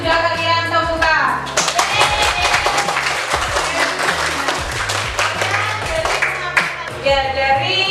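Students in a classroom clap together in a dense, lively round of applause that fills most of the moment, with a few voices mixed in near the start and end.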